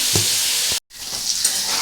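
Aloo posto ingredients frying steadily in a pan, a loud broadband sizzle with a couple of stirring scrapes, cut by a brief silent gap before the hiss resumes; no one speaks.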